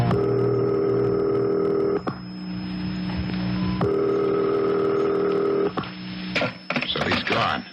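A telephone being dialed in a 1970s radio drama, with bursts of steady tones broken by short pauses, then clicks and a final jumble of noise, close and fairly loud with no talking.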